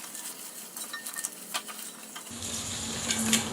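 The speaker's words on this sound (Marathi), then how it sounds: "इथे हे गाजर घेतलेलं आहे हे गाजर घालायचं आहे आपण ह्याच्यात आणि हे आता व्यवस्थित मिक्स करून घ्यायचं आहे" Carrots stirred together with other vegetables in a pot for veg pulao, with soft scraping and light patter of the spoon against the pan, joined partway through by a steady frying hiss.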